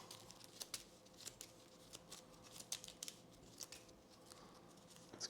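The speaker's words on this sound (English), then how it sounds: "Let's shuffle these." Board game cards are shuffled, giving a faint series of soft crisp clicks and riffles in an irregular rhythm against a quiet room.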